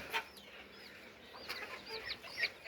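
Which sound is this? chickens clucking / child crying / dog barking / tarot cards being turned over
chickens clucking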